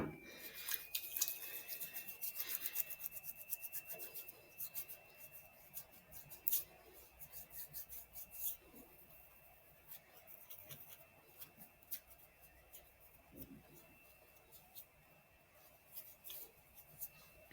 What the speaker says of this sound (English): I'm going to be performing some hand hygiene as well